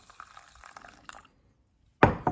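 Hot water at about 70 degrees Celsius splashes into a vessel of tencha leaf tea, a short close pour that starts abruptly after a quiet stretch of faint clinking.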